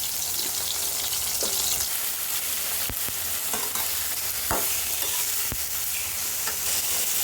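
Tomatoes and dried chillies fry in hot oil for a simple tomato chutney, a steady close sizzle broken by a few sharp clinks of a utensil stirring the pan, with no talking.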